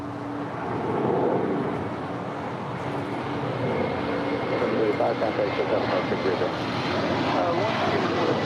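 A VistaJet Malta jet aircraft at LAX, a steady broad engine roar at moderate distance that builds slightly over several seconds, with people talking over it.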